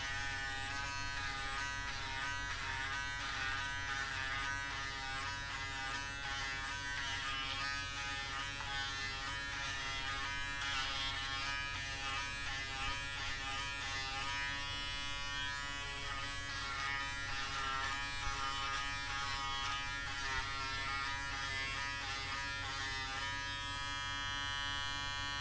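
Cheap Braun and Action Lifetime foil shavers buzz steadily and loudly across a head, a continuous close electric hum with shifting pitch as the heads move over stubble, no talking.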